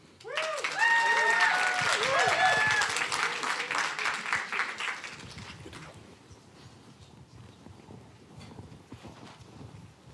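An audience at a live startup accelerator competition bursts into loud applause and cheering that swells quickly and holds, then fades gradually under a voice from the stage.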